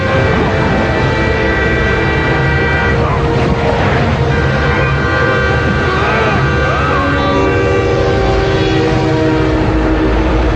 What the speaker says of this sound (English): The chase switches to a train that's plowing through snow-filled passes in Colorado